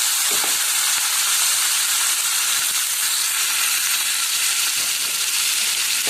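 Chopped onion and tomato drop into hot oil and fry with a dense, steady sizzle and hiss that holds for the whole stretch. No one speaks.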